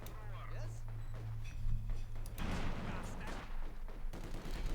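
Gunfire and mortar blasts from a 120mm mortar in the Company of Heroes 2 battle game, a Red Army weapon, with a burst of loud explosive rumble midway under ongoing battle noise and commentary.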